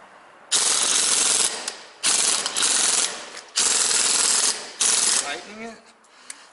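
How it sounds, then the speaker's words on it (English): Pneumatic impact gun loosening the strut nut on a 2017 Volkswagen Golf Alltrack's suspension during a coilover install: four loud, sustained bursts of hammering rattle, each about a second long, with short gaps between, ending in fading clatter. "And use an impact gun. And it's going to get loud."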